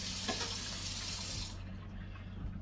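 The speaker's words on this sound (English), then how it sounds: "We're gonna put just a little bit of water in it." Water poured from a tap into a crawfish gumbo pot, a close, steady rushing stream that stops partway through, leaving a quieter background.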